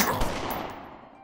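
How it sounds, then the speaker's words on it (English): Gunfire in the crime strategy game Omerta: City of Gangsters, a loud burst of shots with a sharp attack fading into a decaying tail over about a second. "Maybe I'll be able to just fire off a couple of cheap shots at him though"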